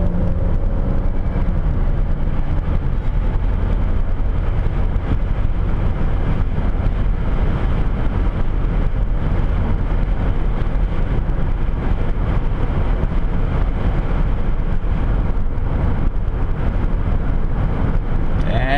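A car rolling downhill on a country road at around 80, with a steady, loud rumble of road and engine noise mixed with wind buffeting that continues unbroken.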